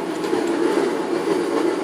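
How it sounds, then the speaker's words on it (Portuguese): A train passes nearby with a steady, loud rumble of rail cars and clattering wheels, alone without talk. "Deixa o trem passar."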